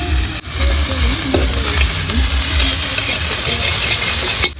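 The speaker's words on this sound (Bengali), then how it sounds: "একদম কড়াইতে ডাইরেক্ট ঘি দিয়ে দিল" Fried rice sizzles hard in ghee in a wok, a loud, steady frying hiss with stirring scrapes running almost the whole time, with no voices.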